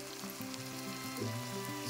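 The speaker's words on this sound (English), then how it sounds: "Stirring the onions, cook them for 3 to 5 minutes until it changes its color" Onions cooking in a pan for carrot rice, giving a constant gentle sizzle with faint movement from stirring, fairly quiet and uninterrupted by speech.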